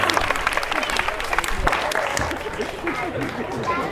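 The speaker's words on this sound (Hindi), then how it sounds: "एक बार दोनों हाथ ऊपर करके जोरदार तालियों के साथ आशीर्वाद दीजिए" Dense applause from an audience at a Sai Sandhya devotional evening in Indra Vihar, a thick, steady wash of many hands clapping throughout, with some crowd murmur mixed in.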